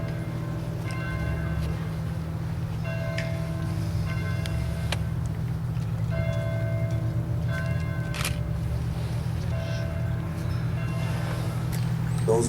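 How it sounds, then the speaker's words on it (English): Bells ring for a Veterans Day program in a slow, irregular series of struck tones over a low steady hum, moderately distant with no talking. "Those bells are bells in honor of you veterans"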